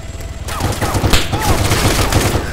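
Rifle gunfire in the military shooter ARMA III, a rapid string of sharp, close shots firing steadily for about two seconds after a brief quiet start.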